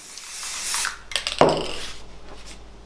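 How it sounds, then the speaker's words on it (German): Spray adhesive hisses out in a bright, steady burst onto a wooden board for a band-saw vase project, followed by a few close handling clicks and taps. "Und dieses bringe ich nur mit Sprühkleber auf die Holzplatte auf."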